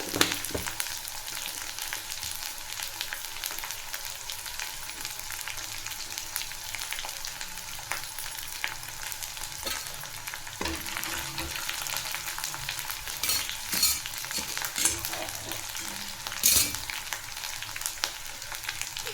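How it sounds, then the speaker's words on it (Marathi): A ground paste of garlic greens and coriander fries in hot oil with cumin, a steady bright sizzle and crackle running throughout, broken by occasional stirring scrapes and no voices. "लसूण पात आणि कोथिंबर वाटून घेतलं आहे हे टाकायचं आहे याला दोन दोन मिनिट तेलात फ्राय होऊ द्यायचं आहे"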